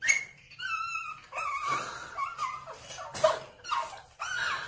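A puppy whimpers and yips in a tantrum, high-pitched whines and short squeaky cries coming close and in repeated bursts with brief pauses between them.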